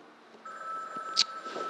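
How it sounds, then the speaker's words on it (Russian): A mobile phone rings inside a pocket during a lecture, a steady electronic tone that comes in partway through at moderate level, with a short sharper burst near the end and faint room noise. "можно кого-нибудь попросить выключить мой телефон? Он у меня в кармане лежит."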